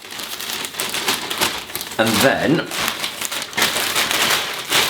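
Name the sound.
plastic bag being torn and handled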